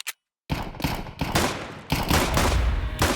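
Rapid bursts of gunfire from the online shooter Wolfteam on a new map, loud and dense, with repeated volleys and a brief gap near the start before sustained firing.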